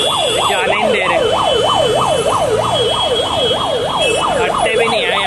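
An ambulance siren wails loud and close in a fast, regular rising-and-falling pattern while the vehicle sits in a traffic jam near Nilkanth Mandir in Dwarka, New Delhi, with a steady road rumble underneath.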